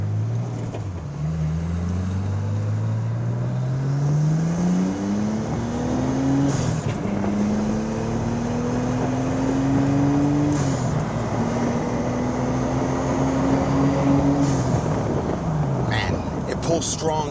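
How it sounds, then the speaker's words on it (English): A 1994 Nissan Skyline R33 GTS-t with a 350Z engine swap accelerates hard on the road, its engine note climbing steadily through the revs over several gear changes under constant road and wind roar. "We're gonna give you a nice little quick acceleration run so you can see how the car looks and sounds."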